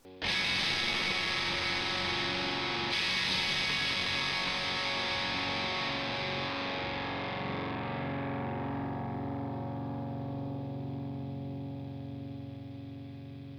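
A faint, hissy distorted guitar residue from a Soldano amp nulled against a phase-inverted ToneX capture rings out, a thin fizzy wash that slowly fades and darkens over several seconds.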